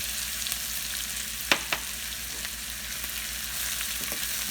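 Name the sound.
green chillies and curry leaves frying in oil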